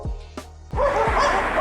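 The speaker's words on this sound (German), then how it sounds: "Und die Hunde, die ihr vielleicht gerade im Hintergrund hört, sind holländische Hunde." Dogs bark a few times at the German–Dutch border, with short sharp barks at first and then a steadier wash of background noise.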